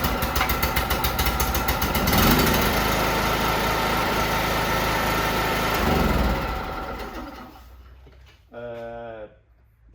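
A petrol generator engine is hand-started and then runs with a loud, rough, steady chugging close by, falling quieter after several seconds. Someone speaks briefly near the end.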